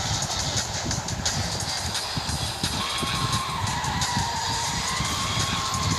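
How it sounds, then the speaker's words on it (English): A car drifts in the Extreme Car Driving video game, with a dense roar of engine and tyre noise and a drawn-out skid squeal rising partway through, all loud and continuous. "This is the best drifting ever."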